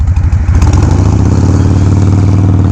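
A Harley-Davidson Sportster 1200 motorcycle engine idling up close, a loud, deep, steady lumpy rumble with a pulsing beat and a slight blip near the start.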